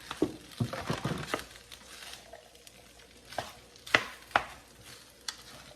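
Rice being stirred and cooked in a wok gives intermittent scraping and clattering stirs over a soft sizzle, close by, in uneven bursts with quiet gaps between them.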